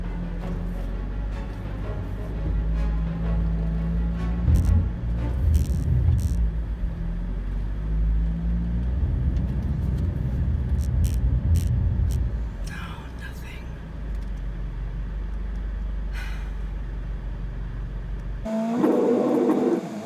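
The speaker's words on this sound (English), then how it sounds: "Burning out the tires, putting more rocks under the tires" A car stuck in a ditch spins its tires in a sustained, revving burnout, engine rumble and tire whine rising and falling for a long stretch, with brief pauses and a voice talking over parts of it.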